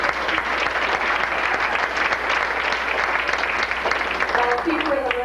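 An audience at a feminist award event breaks into sustained applause, a dense, loud clatter of clapping that continues steadily while a voice speaks briefly over it near the end.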